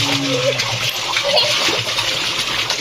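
Water runs and splashes steadily and loudly close by while a child is bathed, a continuous gushing wash with brief voices mixed in.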